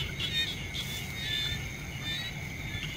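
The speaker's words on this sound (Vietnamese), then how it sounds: "nhái gì đó, không phải chuột đâu" Frogs calling at night in rural Vietnamese fields, faint repeated chirping trills over a low background rumble, steady and somewhat distant.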